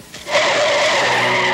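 A car skids in a road accident, a sharp tire screech rising after a faint lead-in and holding loud and steady to the end, with no talk.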